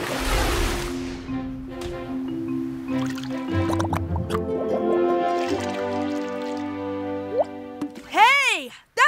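In an animated cartoon, water drips through a homemade sand and charcoal filter, a few plinking drops near the end of the clip, heard over music and voices.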